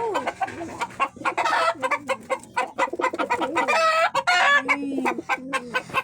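Domestic pigeon sounds from a bird about to lay eggs, with repeated close coos and clucking calls in dense bursts throughout, fairly loud and with no talking.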